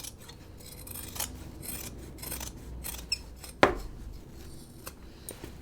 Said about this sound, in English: now what I'm going to do is I'm going to trim all this right here.